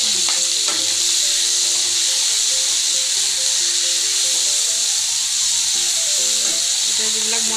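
Spices fry in oil for an Assamese fish curry, a loud, constant hiss and sizzle with faint stirring scrapes, while a voice talks faintly underneath.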